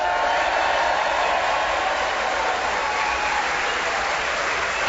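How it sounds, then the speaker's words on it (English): Cardiff theatre audience applauding and cheering, a dense, steady roar of many hands clapping throughout with no pauses, loud and close. "as our listeners can hear, we have before us a passionate, hyped-up Welsh audience to cheer us on our way"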